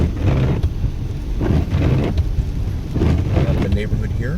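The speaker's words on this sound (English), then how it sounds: "Rain has picked up a little bit here on the east side of town" Rain on the east side of a town pours steadily while deep rumbles of thunder roll in three broad surges, loud and close, with a faint voice underneath.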